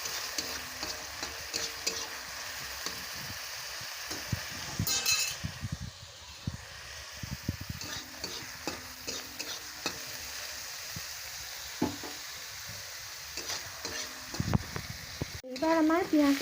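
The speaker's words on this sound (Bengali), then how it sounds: "সরিষার তেল দেওয়ার পরে পেঁয়াজটা দিয়ে দিলাম, দিয়ে সুন্দর করে লাল লাল করে ভেজে নেব" Onion fries in mustard oil in a wok, sizzling steadily under repeated stirring scrapes and occasional metallic clinks, heard close up.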